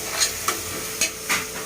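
Tomatoes being fried and stirred in a pan for a gravy in a home kitchen, a soft steady sizzle with a few distinct scraping stirs of a spoon, no voices.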